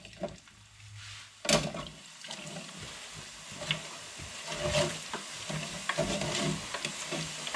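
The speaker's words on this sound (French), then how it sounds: "mais je remue, j'enlève vraiment l'huile qui reste sur les chips, tout en remuant les chips qui cuisent" Homemade potato chips frying in hot oil while being stirred, a bubbling, sloshing sizzle broken by sharp clacks and scrapes of a utensil in the pot, close and fairly quiet.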